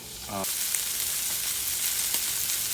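Meat for kimchi fried rice drops into a hot pan and sizzles, a steady, close frying hiss rising sharply after a brief voice at the start and holding loud throughout, with a faint click midway.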